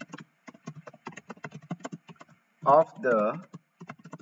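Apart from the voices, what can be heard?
typing Python code on a computer keyboard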